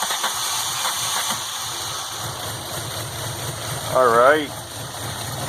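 MK2 Golf GTI engine converted to motorcycle carburettors cranking and trying to catch, with a steady mechanical whir and a short rising starter whine near the end, while a voice speaks briefly.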